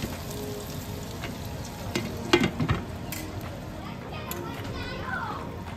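Kudumulu, steamed rice dumplings, fry in a pan with a steady, soft sizzle throughout, and a few brief clinks near the middle. Children's voices play in the background.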